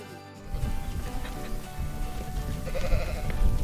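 Ewe lambs bleat on a farm, a dense, overlapping chorus of many sheep calling continuously at close to middle distance.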